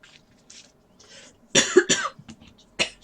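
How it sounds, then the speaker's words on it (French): A woman coughs in a quiet room, a few faint early hacks building into a burst of loud, harsh coughs and then one last cough. "Je suis désolée de tousser comme ça."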